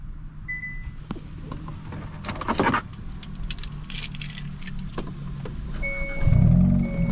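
Inside a 2023 Hyundai Elantra N, keys jangle and a few sharp clicks and rustles sound up close, then a heavier low burst rises near the end as the engine catches.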